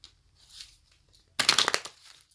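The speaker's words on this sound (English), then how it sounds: "I'm messing up my shuffling." A deck of playing cards is shuffled in one quick, crisp burst of rapid riffling clicks lasting about half a second, after a quiet stretch with faint low hum.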